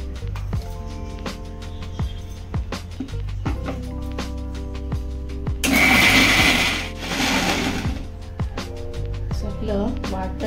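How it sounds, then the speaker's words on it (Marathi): A kitchen mixer grinder grinds roasted masala paste for a crab curry, whirring in bursts with a louder, rougher stretch midway, and some faint clatter in the background. "त्यात आपण मिक्सरला बारीक करून घेऊया।"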